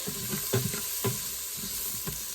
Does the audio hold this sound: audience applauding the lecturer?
no